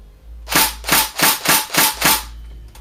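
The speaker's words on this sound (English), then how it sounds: "We can dry fire it, and I can show you how the recoil works." A Tokyo Marui MK16 SCAR-L recoil shock airsoft rifle is dry fired, giving six loud, evenly spaced mechanical snaps from the bolt recoil, close by over a low steady hum.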